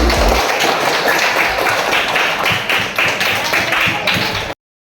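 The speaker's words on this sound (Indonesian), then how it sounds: "Jadi beri aplaus sama teman saya yang bekerja di atas." Students in a classroom clap for a classmate who worked a maths problem at the board, a steady burst of group applause with rapid overlapping claps, lasting several seconds before stopping abruptly.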